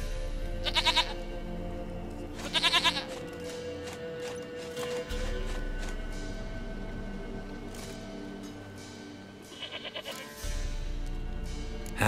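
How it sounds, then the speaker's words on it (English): Goat bleats in The Witcher 3: Wild Hunt, three loud wavering calls spaced across the stretch over a steady low ambient drone of the game world. "Goat of mine, dearest, sweetest goat."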